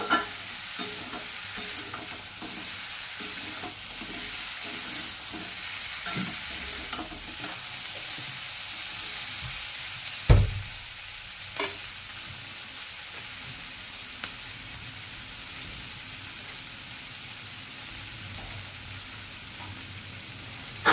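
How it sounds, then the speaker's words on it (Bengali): Pui mituli, vegetarian Malabar spinach, fries in a pan and is stirred with a spatula. A soft continuous sizzle runs underneath repeated scraping strokes, with one sharp knock of the utensil against the pan midway. "জাস্ট এক মিনিট মতো মিশিয়ে নেব"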